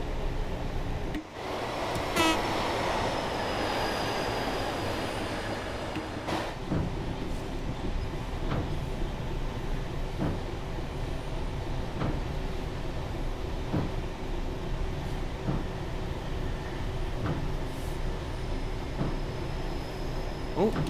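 A HST high-speed train set rumbles past at a steady, continuous roar on the Riviera Line in rain, broadband and sustained for the whole stretch, with faint talk near the start.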